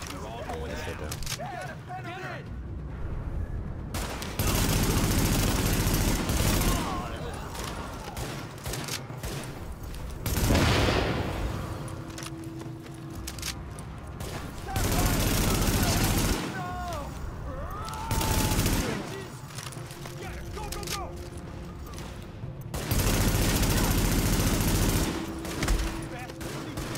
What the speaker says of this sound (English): Party's taking heavy fire from the roof.